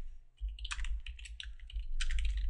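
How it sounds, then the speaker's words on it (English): Typing on a computer keyboard to enter a title in a spreadsheet, close and crisp, with bursts of quick clicking keystrokes over a low steady hum. "let me type in a title over here"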